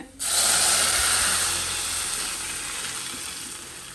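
Garlic fries in hot oil in a pan for a Kerala-style moru curry, giving a steady close sizzle that flares loudly at once and then holds as a dense, slowly easing hiss with no talking.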